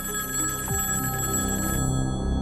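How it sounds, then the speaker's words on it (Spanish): An old-style telephone bell rings continuously and loudly for a couple of seconds, bright and metallic, with a low tone sweep partway through and no voices. "cuando de repente sonó el teléfono"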